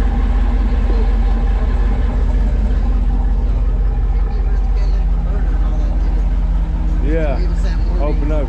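A 1994 Chevy Camaro Z28 with a Flowmaster exhaust rumbles at a steady, loud, deep idle close by, while people talk over it.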